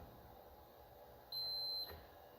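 A multimeter's continuity tester gives one steady high beep, about half a second long, while probing a synth circuit board in a quiet room. The beep is clear but not loud.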